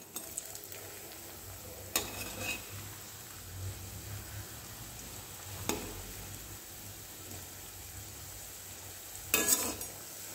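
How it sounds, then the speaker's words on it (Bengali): Turmeric-coated potato pakoras frying in a pan, a soft steady sizzle with occasional sharper stirring clinks and scrapes, heard close with no talk. "এবার আমি এইগুলো যেগুলো আমি হলুদ দিয়ে রেখেছিলাম সেইগুলো একটু ভালো করে ভাজা করে নিচ্ছি"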